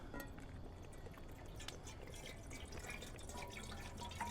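Cold water pours steadily into the pot of a Jetboil Genesis Basecamp camping stove, a soft continuous splashing trickle that stays faint and close throughout.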